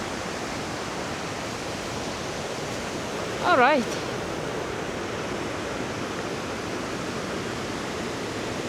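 River flowing through the Flåm Valley in Norway, a steady broadband rush of moving water heard close and constant, with a brief spoken remark partway through.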